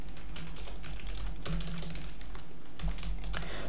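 Keys on a computer keyboard being typed steadily as code is written into a Symfony 6 project, quick irregular clicks in short bursts, close and clear with no talking.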